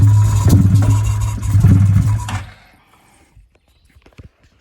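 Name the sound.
Can-Am Outlander ATV engine briefly starting then conking out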